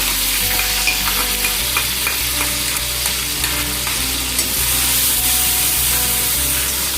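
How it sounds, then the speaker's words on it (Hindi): Chopped onion sizzles loudly in hot oil for an egg korma gravy, a dense steady hiss with light stirring taps, close and continuous. "मेरा ऑयल जो है वो गर्म हो चुका है, तो अभी मैं इसमें चॉप किया हुआ जो अनियन है वो डाल दूँगी"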